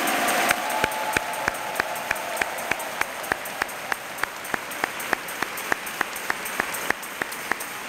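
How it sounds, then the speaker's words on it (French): A church congregation claps in steady unison at a Marian devotion, the sharp even beats falling about three per second over a soft wash of room noise, with no voices above them. "Applaudissons bien fort pour la mère de Jésus."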